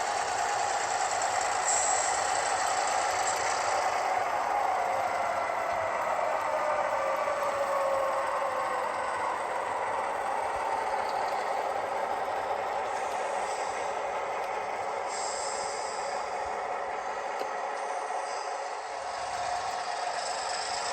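A model train locomotive rumbles and rattles steadily as it switches cars on a layout, a continuous mechanical hum with a slowly shifting whine and light clatter, no voices.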